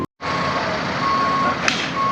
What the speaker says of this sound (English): the tow truck will in fact hook up this big Pace Arrow RV with no plate, and they will tow it out of here